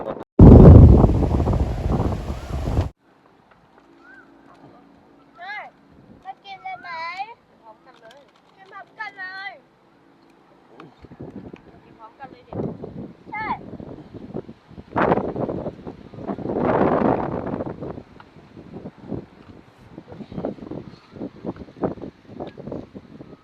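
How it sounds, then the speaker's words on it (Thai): Cool wind blowing by the water at a moored spot: a loud gust buffets the microphone for the first few seconds, then softer, gusty rustling comes and goes under scattered chirps and faint sounds. "นี่มีลมเย็นไป"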